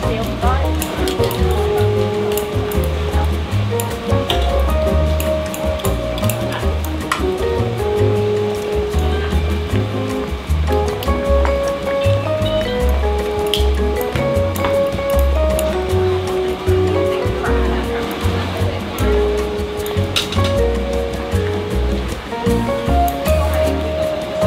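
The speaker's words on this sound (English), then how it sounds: "It just started pouring rain here in Macau" Heavy rain pours onto a Macau street, a steady broadband wash of hiss and splatter that runs throughout, with someone talking over it close by.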